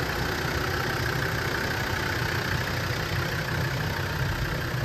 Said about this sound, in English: walking around the front, you can hear the engine on the front